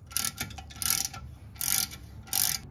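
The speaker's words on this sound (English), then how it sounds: "So just start off with a breaker bar and then you could just switch to a ratchet." A ratchet works a brake caliper bolt on a Mercedes ML350, sounding as four short, close bursts of rapid clicking separated by brief pauses, faint and without talk.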